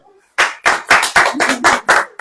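A congregation at a church service claps in unison, seven loud, evenly spaced claps close by, with a faint voice just before they begin.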